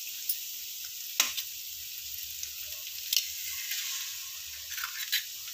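Beaten egg hits a hot pan with stir-fried snake gourd for a Tamil masala poriyal and sizzles in a steady, moderately loud hiss, with a few soft clicks and scrapes of stirring.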